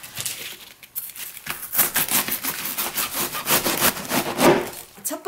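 A knife slices through a head of napa cabbage being split for kimchi brining, with close, rasping cutting strokes and crisp leaf crunches in an uneven rhythm.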